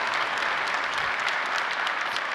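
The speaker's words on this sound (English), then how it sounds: "Oh, applause." Audience applause fills the hall right after a keynote address, a dense, steady wash of many hands clapping at even loudness throughout, with no voices on top.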